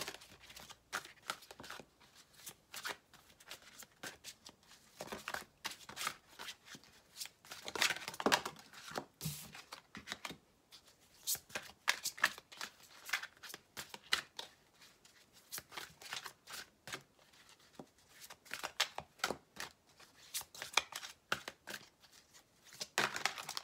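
Tarot cards being shuffled for a reading, a steady run of soft, close riffling and flicking bursts, uneven in rhythm with brief pauses, faint and alone without talk.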